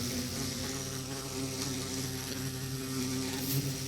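A bee from Minecraft with the Tektopia mod gives a steady, droning buzz that fills the whole stretch at a fairly loud, even level, with a low motor-like hum underneath and no voices.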